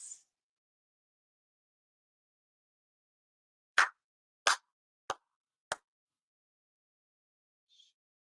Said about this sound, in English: 一度入り礼 for sincere claps.